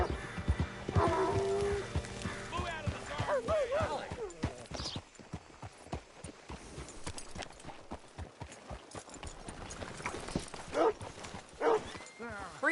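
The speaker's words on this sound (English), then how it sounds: "Hitch your horse up here" A horse in the Wild West video game Red Dead Redemption 2 clip-clops at a steady pace, hooves mixing with voices speaking and brief creaks and clatter, moderately close.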